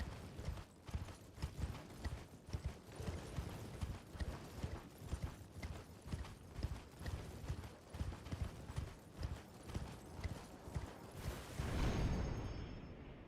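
Hooves clip-clop in a brisk, steady rhythm as a horse is ridden in a video game, with faint creaks of tack, and end in a louder whoosh; no one speaks.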